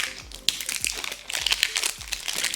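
Scissors cutting into a plastic mystery ball from a Harry Potter mini figure set, giving a run of close, quiet crinkling snips and plastic crunches in a short irregular rhythm.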